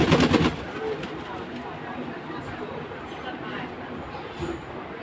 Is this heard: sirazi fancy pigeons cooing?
yes